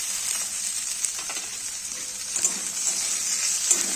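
Onion, potato and beans frying in a pan with salt and turmeric give a steady, bright sizzle with faint crackles and a few soft stirring knocks. It continues evenly throughout and no one speaks.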